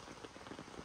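Rain falling steadily in Nepal, a soft continuous patter of drops on a surface, faint and even throughout with no voices.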